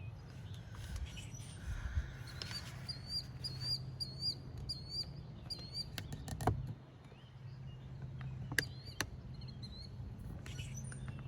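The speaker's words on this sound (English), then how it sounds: "Little screamer bird came over here." A small screaming bird calls outdoors on a hillside, repeating short high shrill chirps in quick bursts above soft background ambience, with a few sharper clicks and no talking.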